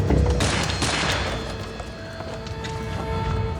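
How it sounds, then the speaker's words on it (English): Gunshots ring out in a dramatized documentary scene: a couple of sharp, loud cracks early on, then lingering echoes and a tonal background bed with no speech. "We heard the first gunshots"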